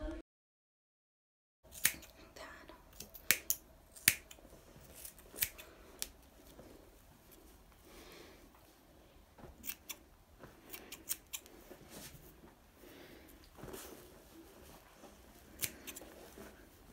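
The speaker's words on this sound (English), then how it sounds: "I will cut the top hairs with the scissors." Scissors trimming the top of a toddler's hair at home: crisp, close snips, sometimes single and sometimes in quick pairs, spread across a quiet room after a short silent start.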